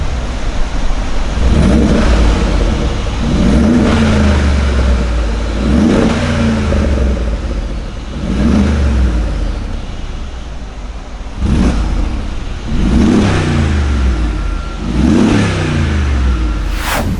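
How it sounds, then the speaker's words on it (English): Mercedes-AMG G63 W463 with its 5.5L V8 biturbo on the stock exhaust, revved repeatedly, each sharp blip rising and falling back to a deep idle burble, loud and close with no talking. "here is how the stock system actually sounds like"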